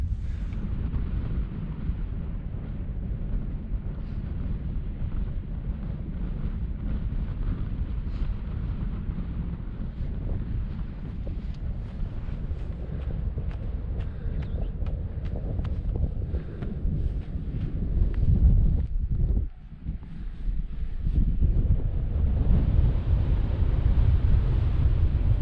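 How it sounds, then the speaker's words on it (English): Strong wind buffeting across a Scottish mountain ridge in Kintail, a steady loud roar of gusts thumping the microphone, briefly easing near the end before surging back, with no talk. "the wind's actually picked up a fair bit"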